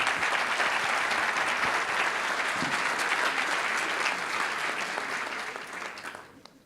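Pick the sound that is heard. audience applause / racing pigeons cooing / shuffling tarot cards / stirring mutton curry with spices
audience applause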